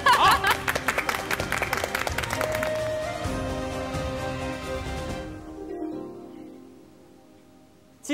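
An audience at a Peking opera performance breaks into loud clapping and cheering that swells at the start and then gradually fades away.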